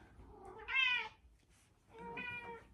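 A house cat gives two clear, drawn-out meows close by, the second a little longer, with a short pause between them and nothing else around.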